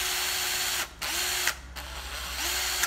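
An old Japanese-market Hitachi 12V cordless drill whirs at a steady high pitch. It stops briefly twice and spins back up each time. The sound is close and loud, with no talking.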